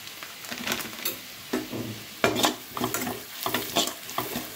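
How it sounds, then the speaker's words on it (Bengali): Ground spices, including Kashmiri chilli powder and coriander powder, frying with onions over low heat in a pan, a soft continuous sizzle broken by repeated scraping stirs of a utensil at close range, with no one talking. "মশলাটা 2 মিনিটের মতো লো হিটে রেখে পেঁয়াজের সাথে একটু ভাজা ভাজা করে নেব।"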